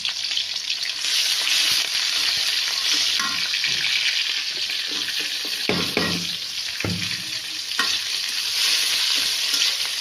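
Bay leaves, onion, green chili and whole cumin frying in hot oil before fish head is braised: a loud, continuous sizzle close by, broken by stirring scrapes and clatter, with no voices.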